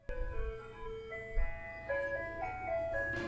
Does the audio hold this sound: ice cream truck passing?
yes